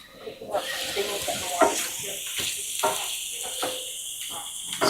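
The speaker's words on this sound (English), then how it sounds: "So we're gonna stir our rice just a little bit." Rice in a pan stirred at a campsite, soft sizzling with repeated scraping and clinking strokes of a utensil, close and moderately loud, with a voice talking over it.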